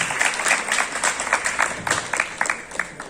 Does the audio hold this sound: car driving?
no